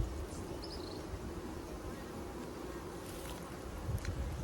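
Honey bees buzzing steadily at a beehive, a dense, continuous hum that stays close and fairly even with no talking.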